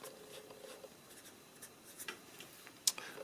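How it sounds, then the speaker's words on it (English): Pencil or pen writing on paper during a drawing lesson, a quiet scratchy scribble with soft irregular strokes and one sharper tap near the end, close and faint with no talking. "And you can write advanced"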